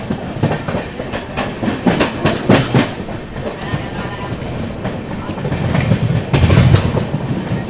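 Indian passenger train, the Thirukkural Express, running on rails in rain near Gudur Junction, with steady rumble and repeated clickety-clack wheel beats over rail joints, loud and close from inside the coach, swelling toward the end.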